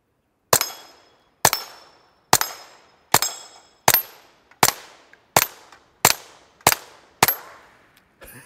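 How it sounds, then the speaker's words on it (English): A Smith & Wesson Victory rimfire pistol fitted with a Gemtech Mist suppressor, fired outdoors into dirt: ten sharp, muffled shots spaced about a second apart, each with a short decaying tail, close and alone. "So I'm going to go out here at 100 yards again and just listen how quiet. I'm just going to shoot the dirt."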